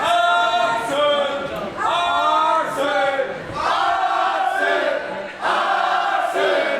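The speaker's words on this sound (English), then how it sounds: "Great crowd tonight, as there always is here in Berlin." A crowd at a live wrestling show in Berlin cheers and chants loudly and steadily throughout, with swelling waves of massed voices and no single voice standing out.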